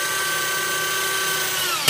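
A power tool whirs steadily at close range while driving fasteners into a mechanically fastened base plate, a continuous motor whine with a sharp knock at the very end.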